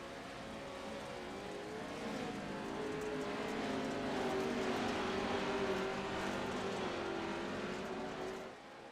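Off-road race vehicles roar off the line together at a land rush start on championship night, a dense engine drone that swells louder mid-pass and then fades slightly.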